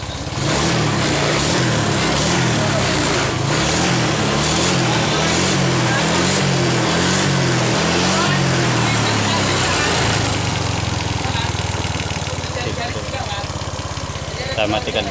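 A Honda Vario 125 scooter engine starts and runs, a loud steady close-up putter that lasts the whole stretch with a slight change in tone partway through.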